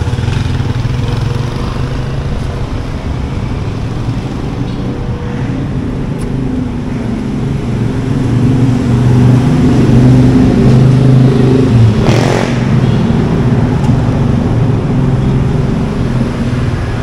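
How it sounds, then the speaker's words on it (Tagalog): A motorized tricycle engine drones past on a street in the Philippines, a steady buzzing growl that swells as it nears and fades again, loud and close with traffic noise around it. "Tricycle."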